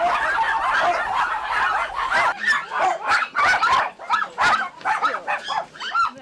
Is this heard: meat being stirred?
no